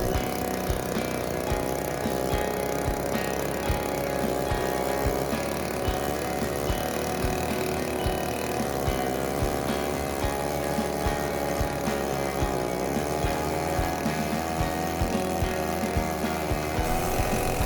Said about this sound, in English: The saw that I'm using is a neotec 8105. It's a 105cc saw.